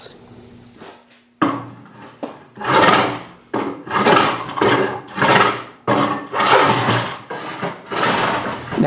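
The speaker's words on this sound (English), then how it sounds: "each shave of the planer makes the paddle more beautiful" A hand plane shaves scrap wood while a paddle is shaped, with a series of rhythmic, rasping strokes, each a rough swish lasting under a second, close and fairly loud after a brief quiet start.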